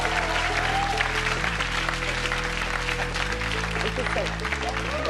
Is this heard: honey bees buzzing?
no